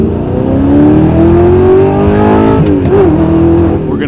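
An Audi R8 supercar, a salvaged car with frame damage, pulls away on the road, its engine loud and close, revving smoothly upward, dropping briefly at a gear change, then climbing again.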